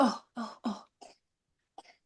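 A person coughs three times in quick succession, then gives a couple of softer, trailing coughs after a short pause.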